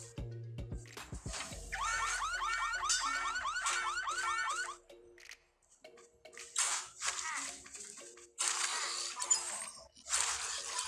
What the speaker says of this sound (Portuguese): Ter que desligar o alarme dos carros